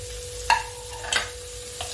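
Carrot and papaya pieces being lightly sautéed over a low gas flame, with a few distinct stirring scrapes against the pan over a faint steady hiss and hum, no voices.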